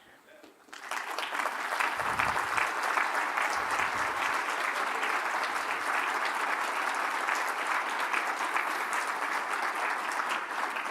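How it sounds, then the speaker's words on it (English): A big round of applause from a seated audience at a city address, greeting the city's department heads as they stand; clapping starts abruptly and stays loud and dense, with a few low thumps and murmurs underneath. "I really do want you to recognize them with a really big round of applause"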